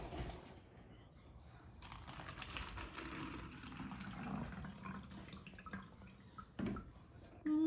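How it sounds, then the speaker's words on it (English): Vinegar is poured into a plastic water bottle, a faint trickling and splashing that runs for several seconds at low level, with a few soft knocks of the bottle near the end. "you pour about anywhere from 1/4 to 1/2 cup of vinegar into your bottle"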